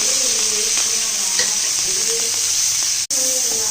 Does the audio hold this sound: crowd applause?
no